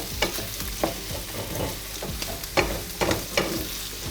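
Minced garlic frying in a hot pan sizzles steadily up close, broken by several sharp scraping stirs of a utensil against the pan, with no talking.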